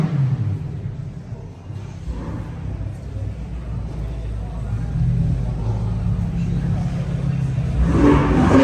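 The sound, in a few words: exotic car revving as it arrives at car meet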